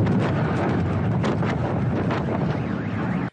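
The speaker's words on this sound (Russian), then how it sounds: "В одном из густонаселенных районов города внезапно гремит серия взрывов." A burning gas station in Novosibirsk with fuel tanks exploding one after another, heard as a dense, roaring rumble with buffeting wind noise that runs loud and continuous, then cuts off abruptly.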